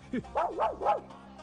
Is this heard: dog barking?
yes